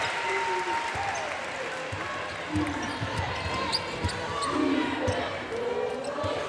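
A home crowd applauds at a women's college basketball game, Gonzaga against UC Irvine in the March Madness first round, with steady clapping and cheers while a commentator talks over it and ball bounces are heard.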